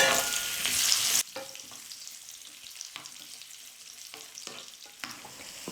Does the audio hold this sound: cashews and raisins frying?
yes